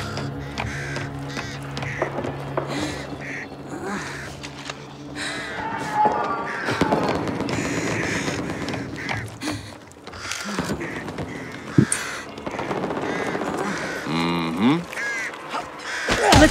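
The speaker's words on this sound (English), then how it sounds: "don't disturb the birds" Birds in the video game Back 4 Blood cawing and squawking among layered game sounds and effects, the harsh calls coming in repeated bursts over a busy, continuous backdrop.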